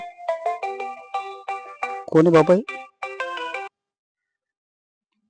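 A melodic phone ringtone plays a bright, repeating tune for a few seconds, with a brief voice in the middle, then stops into silence.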